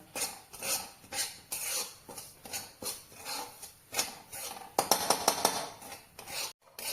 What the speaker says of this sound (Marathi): तर हे लालसर होईपर्यंत भाजून घ्यायचं आपण रवा